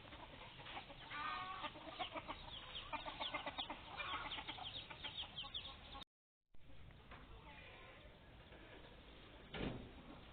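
Chickens cluck softly and steadily in a garden where they roam freely, a faint continuous flock chatter with a brief silent gap midway.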